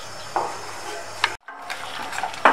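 Mango jam cooking in a pan gives soft stirring scrapes and a low bubbling simmer, with a brief dropout partway through and a sharper utensil knock at the end.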